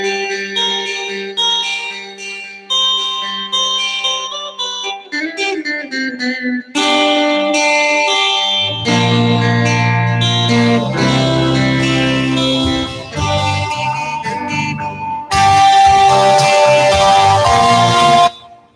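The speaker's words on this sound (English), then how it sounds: "This is a really cool melody guitar part." A recorded song's lead melody guitar, heavily effected with bell-like, distorted tones, plays a loud, bright line with several abrupt section changes as other instruments fill in beneath.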